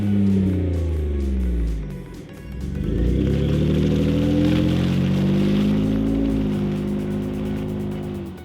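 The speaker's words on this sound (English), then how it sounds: "Our two favorite aggressive catback kits are the MBRP pre-tire exit kit" Ford F150 pickup with the 3.5L EcoBoost engine and an MBRP pre-tire exit cat-back exhaust, revving close by with a deep, rising drone that dips briefly and then climbs again and holds.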